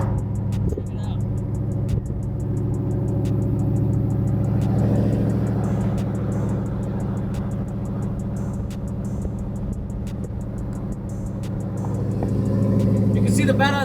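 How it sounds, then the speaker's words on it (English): Cars cruise around a car show, engines idling and rumbling steadily nearby with a low hum, one revving up near the end, under background chatter. "You can see the badass rides cruising around."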